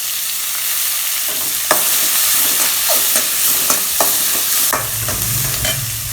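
Green chillies, chopped onion and curry leaves fry in a hot pan for cabbage poriyal, giving a steady loud sizzle broken by several scraping stirs of a spatula, with a fuller crackle building toward the end.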